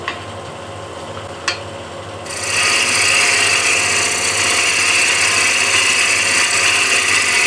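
A lathe turns a dusty walnut blank while a tool cuts in, a steady loud rasping scrape that starts after a quieter motor hum with a couple of sharp taps.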